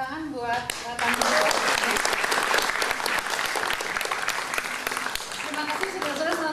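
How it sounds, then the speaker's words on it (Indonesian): Audience applause for guests at an evening event on fighting corruption: a dense, loud, steady wave of clapping from a full crowd that swells after a second and carries on, with a voice briefly heard at the start and near the end. "tepuk tangan buat tamu"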